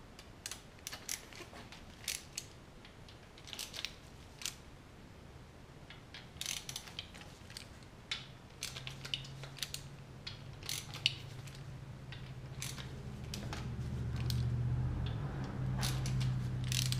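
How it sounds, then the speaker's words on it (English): Ratchet wrench clicking as the outer bolts come off a 2015 Harley-Davidson Breakout engine: quick bursts of sharp metallic pawl clicks with pauses, close and fairly quiet, joined by a low hum near the end. "I am going to remove all the outer bolts, leaving the oil pump in place"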